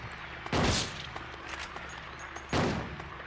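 Pistol fire in the Silent Hill 2 video game on PS2 comes as two sharp, loud shots about two seconds apart, each with a brief ringing decay over a steady background of game ambience.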